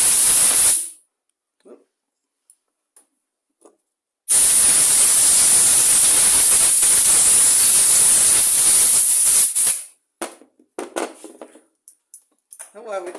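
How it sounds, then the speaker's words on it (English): A loud, steady blast of compressed air hisses for several seconds as it is blown through an old lawn mower's carburettor, with brief short puffs before and sporadic clicks and a spoken exclamation after. "So we'll take some air. We'll just blow that all down."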